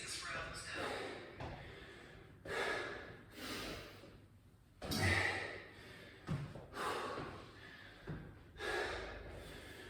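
Heavy, labored breathing after a no-equipment home workout circuit, a series of loud gasping breaths and exhalations at irregular intervals, close to the microphone, with a voice talking at times.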